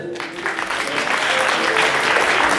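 A school graduation evening audience applauds steadily as a performer is invited onto the stage, with dense, sustained clapping filling the hall.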